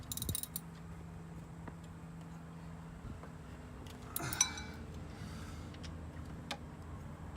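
A hand tool tightens an alternator bolt on a Ford F150, giving faint scattered ratcheting clicks and metallic creaks over a low background hum, with no talking.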